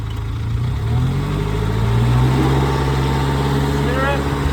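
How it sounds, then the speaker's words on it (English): The engine of a Rayco RG55R stump grinder is throttled up, a continuous loud rumbling drone that rises in pitch as it revs, with a voice talking over it. "I can throttle it up."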